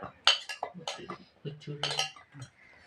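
Small shallots clatter into a metal pressure cooker in a home kitchen, a quick run of light clinks and knocks, close and fairly quiet.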